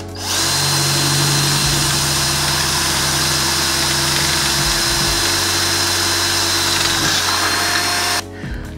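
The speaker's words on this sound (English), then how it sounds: "Now let's drill." Power drill with a 4.5mm bit boring into a metal MOLLE panel from a Jeep Wrangler rear window, a loud, steady whirring grind that runs continuously for about eight seconds, then stops abruptly.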